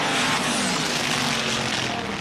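A 1977 NHRA Gatornationals drag racer makes a solo semifinal run, a loud, steady broadband engine roar filling the whole moment at close range with no voices over it.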